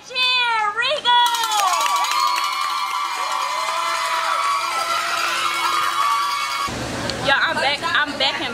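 A large crowd at a cheer showcase screams and cheers for the team with high-pitched shrieks, then sustained loud roaring, and a fresh burst of shouting breaks out near the end.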